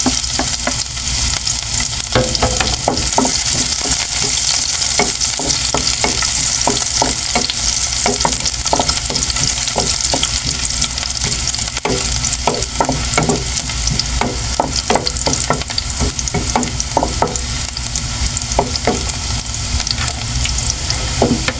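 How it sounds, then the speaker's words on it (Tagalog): Garlic and onion sauté in hot oil for shrimp chayote, a loud continuous sizzle with a rapid, irregular run of spoon scrapes and clatters against the pan throughout, close up. "Atin na pong igisa yung ating bawang at sibuyas"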